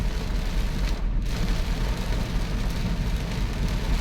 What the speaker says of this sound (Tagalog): Ayan, lumalakas, lumalakas ang ulan.